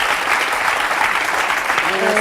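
Studio audience applause on a French talk show, a dense, steady wash of clapping throughout, with a voice briefly emerging near the end.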